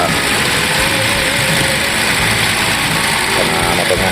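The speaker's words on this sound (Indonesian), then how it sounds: "kita plasing kembali dengan menyalakan mesin kendaraan" A 2009 Toyota Innova petrol engine, type G, idles steadily and loudly at close range, a constant mechanical hum filling the whole stretch.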